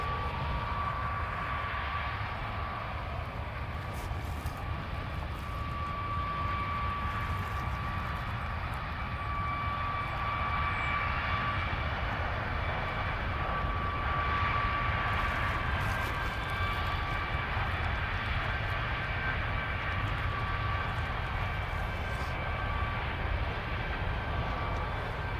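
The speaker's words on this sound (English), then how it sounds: "we've got a bit of an aircraft going on there" Aircraft at Christchurch Airport on a foggy day, a steady distant engine drone with a sustained whining tone that swells slightly midway, moderately quiet against outdoor ambience and without speech.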